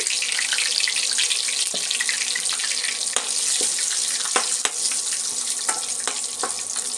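Continuous loud sizzling of curry leaves, dried red chillies and asafoetida tempering in hot oil, with scattered crackles and pops throughout, close and steady, no talking.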